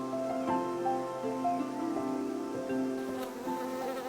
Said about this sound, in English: bees foraging for food in our gardens pollinate our flowers and trees